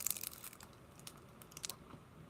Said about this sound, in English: I'm going to eat a mint because I love peppermint